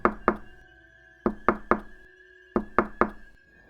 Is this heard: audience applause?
no